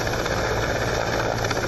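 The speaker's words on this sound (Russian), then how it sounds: "вертолет зависает в воздухе на минимальной высоте" A helicopter hovers at low altitude over a special forces drill, its loud, steady rotor and engine roar filling the whole stretch with a constant low rumble and vibration, with no speech.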